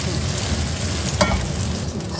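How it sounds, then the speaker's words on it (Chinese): Tofu sizzles steadily in a hot pan, a continuous close frying crackle with a brief utensil clink partway through and no voices. "豆腐给它先煎起来"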